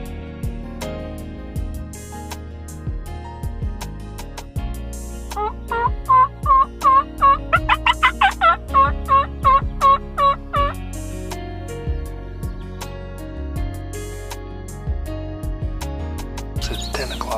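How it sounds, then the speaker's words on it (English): A wild turkey gobbles in a burst of rapid, repeated warbling notes, fairly clear against a quiet late-season hunting backdrop with a few other bird chirps scattered before and after. "I just heard my first shot gobble"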